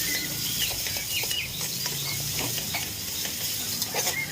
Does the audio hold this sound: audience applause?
no